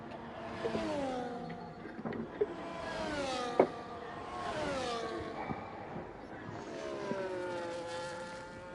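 Race car engines in a Formula 1 sim racing game at the Azerbaijan circuit rev up and down in smooth rising and falling whines, several cars overlapping at moderate loudness with no talk.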